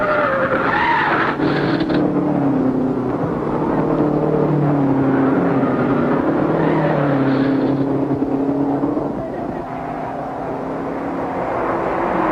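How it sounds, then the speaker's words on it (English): A race car spins out at the 1951 Indianapolis 500 with a long skidding, squealing slide, over engine roar that rises and falls throughout. "While Wallard and Linden battle, Bettenhausen spins."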